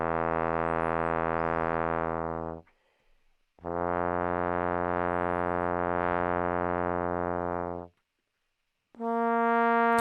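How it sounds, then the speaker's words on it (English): Sustained trombone tones, each held for several seconds with rich, steady harmonics, separated by short silences and played alone without talk. "So here are the trombone tones that it hasn't seen before."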